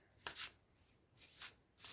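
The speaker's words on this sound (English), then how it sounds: "So I'll give these a little shuffle, and I shall draw one for you" A deck of tarot cards shuffled by hand in three quick riffling bursts separated by short pauses, close and crisp in a quiet room.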